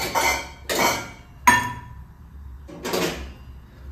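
Metal spoon scooping dry oats from a container in a home kitchen, four separate scrapes and clinks spaced roughly a second apart, close and fairly loud, with a sharp metallic ting on the third scoop.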